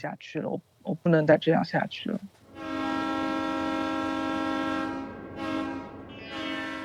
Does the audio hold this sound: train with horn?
yes